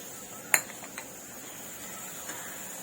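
A metal spoon strikes a pan once with a sharp clink while cashews and vegetables are sautéed for oats upma, followed by a few faint scraping taps and a soft quiet sizzle beneath.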